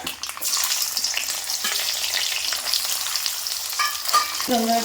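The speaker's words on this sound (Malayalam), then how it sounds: "കടുക് കുത്തി ഞാൻ തേങ്ങ അങ്ങോട്ട് ഇടുക" Coconut pieces sautéing with mustard seeds in hot oil for a Kuttanad-style Kerala duck curry, a loud steady sizzle close up with spoon scrapes and stirring knocks, ending in a few clanks, no voices.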